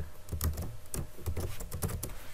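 Code is typed on a computer keyboard for an Arduino sketch, a close run of quick, uneven key clicks and taps with short pauses between bursts, no voice present.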